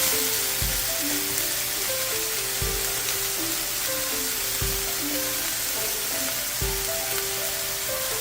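Mixed vegetables sauté with a steady, close sizzle in a big cast iron skillet, punctuated by a few soft knocks at regular intervals.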